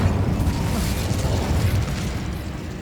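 A fire spell cast in the video game Hogwarts Legacy, heard as a steady, loud, roaring rumble of flame lasting a few seconds without break.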